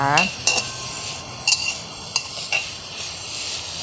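Garlic stir-frying in a pan, a steady soft sizzle with a few sharp spatula scrapes and clinks against the pan spaced through it, close and alone with no talking.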